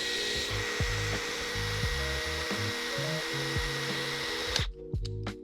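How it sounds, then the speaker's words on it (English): A power drill fitted with a small 9/64 bit bores a pilot hole while fitting a YZ250 master cylinder to a Sur-Ron Ultra Bee, a steady close whine with shifting pitch that cuts off near the end, followed by a few clicks. "I'm just gonna drill a pilot hole through here."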